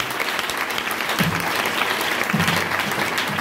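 Loud, dense applause from a church congregation at an Easter service, close and continuous, with a couple of brief low voices or shouts rising within the clapping.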